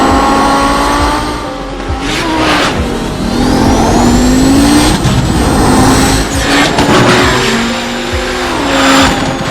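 An Audi 90 race car in iRacing accelerates hard, its engine revving loudly through rising and falling pitch sweeps as gears change, with brief tire squeal, close and continuous with no talk.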